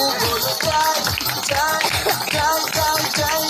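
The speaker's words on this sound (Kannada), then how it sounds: "ಚಪ್ಪಾಳೆ ಚಪ್ಪಾಳೆ" Rhythmic hand claps from a church congregation during a Kannada worship song, steady regular beats under loud singing voices and music.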